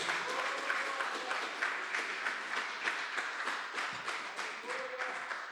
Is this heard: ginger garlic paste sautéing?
no